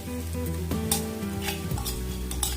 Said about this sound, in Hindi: और इसे 2 मिनट तक चलाएं ताकि इसका रॉ स्मेल चला जाए